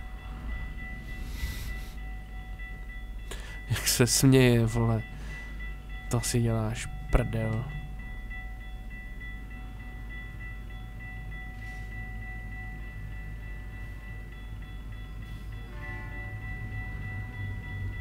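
A train in American Truck Simulator rumbles steadily while two long horn blasts sound in succession, with a voice talking and laughing near the horns.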